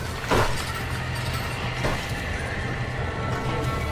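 In the video game Red Dead Redemption, a horse whinnies loudly near the start, then another shorter neigh follows, over a steady low rumble and bustling background noise.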